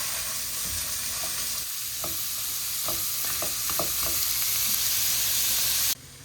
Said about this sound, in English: Listen to that sizzle, huh?